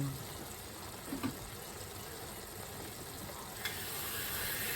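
Bihon rice noodles cooking in a pan, a constant soft sizzle and bubbling hiss with a couple of brief clinks of a utensil stirring, close and even throughout.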